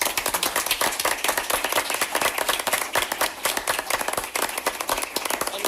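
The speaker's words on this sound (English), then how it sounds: "let's give them a round of applause" Audience at a school board of education meeting claps for students being recognized, a dense, steady patter of many hands holding for several seconds at moderate loudness.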